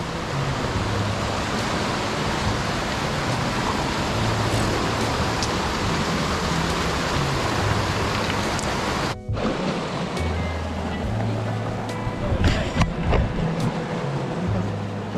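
A mountain stream flows beside a trail on a lakeside hike near Pic de Tracens, giving a loud, steady, close rushing of water that runs without a break, apart from a brief dip partway through.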